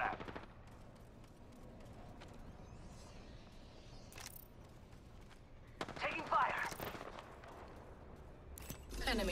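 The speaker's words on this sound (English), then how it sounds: "Being shot at." Gunfire in the video game Apex Legends crackles in rapid automatic bursts, heaviest in the middle and again at the end, over a quiet game background with faint voice-like sounds.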